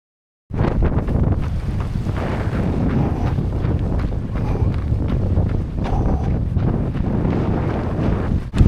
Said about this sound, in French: avec vent de face, c'est horrible.